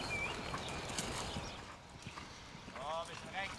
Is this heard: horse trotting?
yes